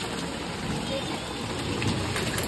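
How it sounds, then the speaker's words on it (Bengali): Rain falls in a steady, dense wash of hiss and patter close by, outdoors on a day with sunshine and showers, continuous and even throughout with no voices heard. "এদিকে রোদ্দুর এদিকে বৃষ্টি হচ্ছে এখন"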